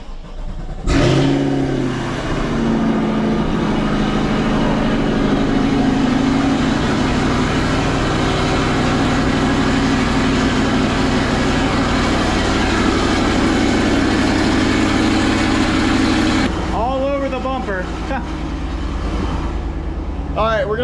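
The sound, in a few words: C8 Corvette engine starting and idling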